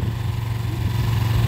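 A motorcycle engine idles with a steady, low, even throb, close and fairly loud, while a rider learns to ease out the clutch.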